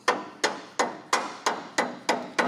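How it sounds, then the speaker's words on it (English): A hammer knocks a top hat piece into place on a worn-out 1972 Chevrolet C10 truck frame, eight sharp metallic blows at an even pace, close and loud, with no talk. "Knock it over with a hammer."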